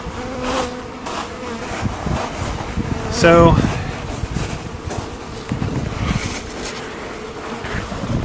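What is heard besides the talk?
honeybees buzzing during bee package installation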